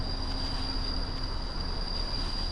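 Coal trains roll through a Workers & Resources: Soviet Republic city in a steady rumble, with a high thin wheel squeal running over it the whole time.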